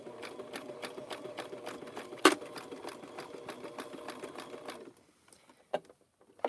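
A sewing machine back stitching a rope and fabric coaster runs in a fast, even rhythm of stitches, then stops, leaving a few faint clicks and handling noises.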